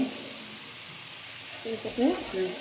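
Soft sizzling of vegetables sautéing in a pan as green chilies go in for a Tamil sodhi, a quiet steady hiss with a few clinks of stirring toward the end.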